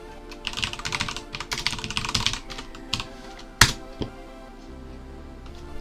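Rapid typing on a computer keyboard during mainframe CICS COBOL programming, close and fairly loud, bursts of clattering keystrokes followed by a sharp louder key hit and a few sparse taps.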